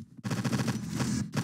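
Gunfire in the video game Total Overdose sounds like a string of firecrackers: a rapid, rattling burst of shots that runs for about a second between short gaps, loud and close, with no one talking.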